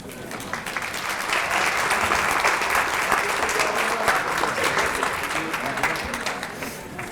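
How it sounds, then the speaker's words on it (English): Sustained applause from a large audience at a human rights awards ceremony, a dense steady wash of clapping that holds evenly for several seconds, with murmured voices faintly underneath. "let's do one more round of applause for all the recipients"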